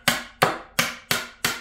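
Hammer striking a wooden pallet to knock out nails, five sharp evenly spaced whacks close by, each with a short ringing decay.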